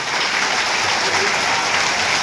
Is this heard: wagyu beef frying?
no